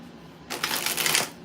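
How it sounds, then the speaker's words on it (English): A quick riffle of tarot cards being shuffled, a short crisp burst of flapping paper lasting about a second, close and clear. "One more shuffle."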